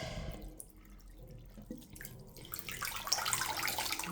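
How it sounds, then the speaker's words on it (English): A toy is pushed under water and squeezed, giving sloshing, trickling and dripping sounds that build into a louder, fuller splashing toward the end. "I'm squeezing to make sure that the water goes in and he's fully submerged"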